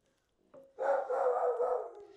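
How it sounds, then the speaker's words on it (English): A dog in a home kitchen gives a short whine, then one sustained, drawn-out bark-howl, close and fairly loud. "Is that why you're barking?"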